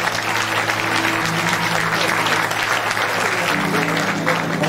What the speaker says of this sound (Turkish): Alkışlarınızla Alper Küçük huzurlarınızda.